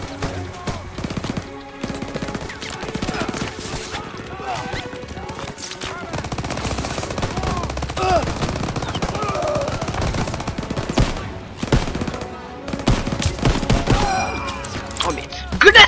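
Gunfire in a Call of Duty WWII battle, bursts of machine-gun and rifle shots crackling in uneven volleys over a busy background, with a player talking through parts of it.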